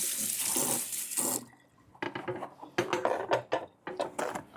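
Rice is rinsed under a running kitchen tap, with water splashing and gurgling in bursts, then clattering and sloshing as the grains are swirled and drained in a sink, fairly quiet and close.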